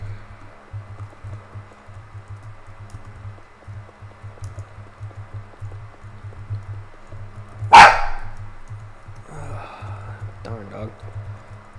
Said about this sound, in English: He likes to bark at nothing sometimes.